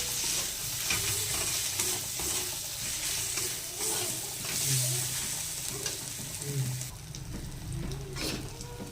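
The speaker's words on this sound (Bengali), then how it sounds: "দিয়ে দিয়েছি, ভালো করে কষে নেব।" Spices with chili and turmeric powder being stirred and fried in a pan for rajma, a steady dense sizzle with repeated scraping strokes of a spoon, close and unbroken, no speech.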